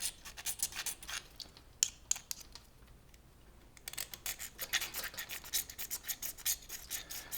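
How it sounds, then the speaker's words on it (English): A magnesium fire starter block is scraped with a blade, producing repeated rhythmic rasping strokes, close and fairly quiet, with a short pause in the middle before the scraping resumes. "You just take your time and scrape some magnesium off."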